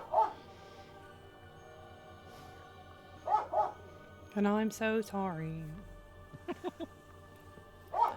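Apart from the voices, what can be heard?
dog barking and whimpering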